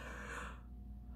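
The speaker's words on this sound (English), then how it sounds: "And then can you do a yawn?" A person yawns during a morning yoga stretch: a soft, breathy intake that trails off into quiet, faint and close.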